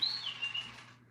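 A pet bird named Bert gives a faint, brief high whistle indoors, a thin chirping tone that fades out within a second over a low steady hum.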